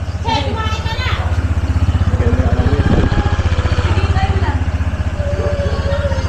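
A motorcycle engine idles and runs steadily with a deep, even throb throughout, while people talk loudly over it.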